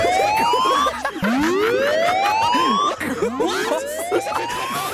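A wailing alarm siren in a video game, its pitch sweeping upward again and again in long rising whoops, loud and continuous over a busy background.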